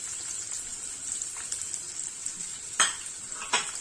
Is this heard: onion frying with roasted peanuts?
yes